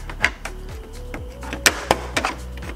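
Electrical connectors being unplugged from a Honda Civic front bumper under small flaps during a grille install, a series of sharp plastic clicks and snaps close up against a steady low hum.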